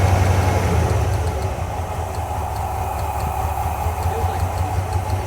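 A 1991 Ford F150 4x4 pickup's engine idles in a steady low rumble with a broad, rough hiss, continuous and close throughout.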